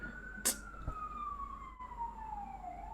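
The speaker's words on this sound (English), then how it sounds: "You guys hear this fucking siren?" A single siren wails with a slow downward-sliding tone, heard at moderate distance with a brief clatter near the start.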